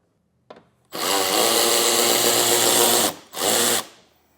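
A power tool whirring on a 7mm bolt at the front fascia of a 2025 Buick Enclave, one long steady buzzing run, then a short second burst, up close and without talk.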